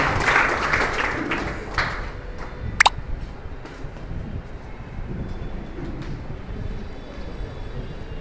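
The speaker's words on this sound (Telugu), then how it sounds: "అందరూ చప్పట్లు కొడితే అయిపోతుంది." An audience claps at a student organisation's founding ceremony, a burst of applause strongest at the start that thins and fades within a couple of seconds, followed by a hall murmur with some voices.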